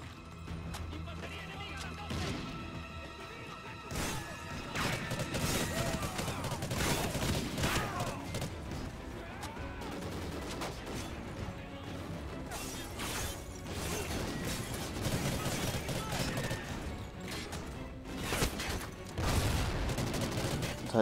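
Gunfire from a Call of Duty Ghosts campaign mission, dense continuous automatic bursts and mechanical clatter over a loud game soundtrack for the whole stretch, with no voices.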